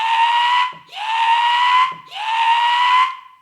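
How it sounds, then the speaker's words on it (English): Three long, loud blasts of the Titanic's ship alarm whistle, each a steady, reedy tone lasting almost a second, separated by short gaps and heard alone without any talk. "That's the sound of the Titanic alarms."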